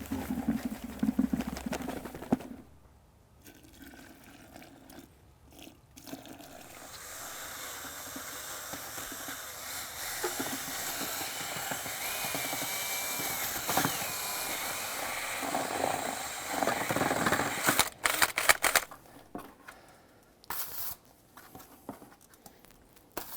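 Joint compound for a drywall corner patch with corner bead is stirred in a bucket, giving a steady wet scraping and churning that runs for most of the stretch, with short pauses near the start and end and no talk.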